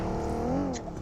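A car in a shooter video game approaches with a low, rising engine drone, fairly quiet and moderately close, with no talk over it.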